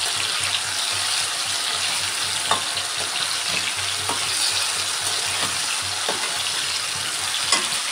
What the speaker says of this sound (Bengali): এই তেলটার মধ্যে পাঁপড় ভেজেছিলাম জয়ের জন্য একটু, তো ওর মধ্যেই আলুটা ভাজা চাপিয়ে দিয়েছি